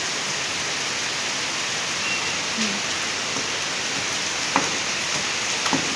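Steady heavy rain hisses loudly and evenly, with a few faint clicks and knocks breaking through the downpour.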